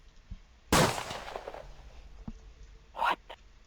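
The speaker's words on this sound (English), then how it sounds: "Around that time, you start to hear gunshots coming from outside." Gunshot sound effects in a tabletop horror roleplaying session: one loud, sharp blast with a decaying tail, then a fainter pop and two quicker shots near the end, over a quiet background.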